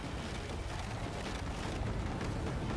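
A boss spews lava in the Jotun video game, giving a continuous, loud, rumbling roar with churning texture that holds steady throughout.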